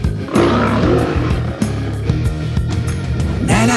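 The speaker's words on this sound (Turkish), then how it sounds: "Bir aslan kükredi" A lion roars inside a Turkish children's song, its growl buried under loud, dense music that carries on throughout.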